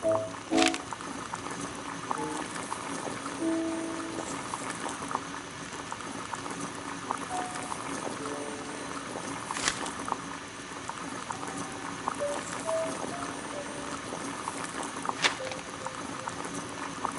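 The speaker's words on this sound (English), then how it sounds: "Boil water in kettle." Water boiling in a kettle, a steady low bubbling and hiss that runs throughout at moderate level, with no one speaking.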